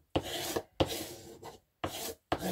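A bone folder rubs and creases paper in four separate bursts of rasping strokes, close and clear, with short silent gaps between them.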